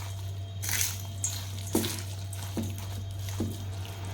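Curd being mixed by hand into cooked rice for South Indian curd rice, soft wet squishes and squelches landing every second or so, close and fairly quiet, over a faint steady hum.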